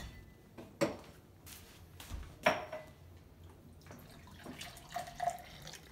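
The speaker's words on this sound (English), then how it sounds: "Let's see what it, let's pour it out." Thirty-year-old Coca-Cola poured from a bottle, a few soft splashes and trickles with scattered drips over about six seconds, faint and close with no talking.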